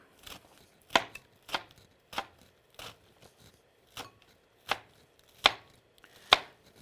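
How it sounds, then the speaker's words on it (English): A knife chops fruit or vegetables on a cutting board in a series of about ten crisp, evenly spaced strokes, close and fairly loud, with quiet gaps between them. "and then you chop."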